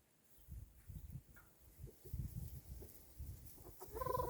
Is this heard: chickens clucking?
yes